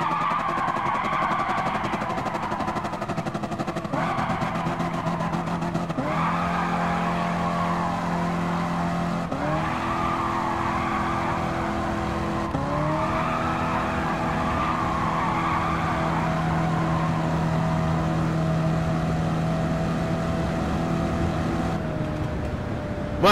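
A 1970 Plymouth Superbird engine, 848 horsepower, revs up repeatedly in Gran Turismo 7, accelerating from standstill and climbing in pitch through several gear shifts with short dips between, loud and continuous without speech.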